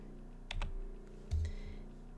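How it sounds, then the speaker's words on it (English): Arrow keys are pressed on a computer keyboard, two separate soft clicks about a second apart, close over a faint steady room hum. "I'm going to use the arrow keys to nudge it into place."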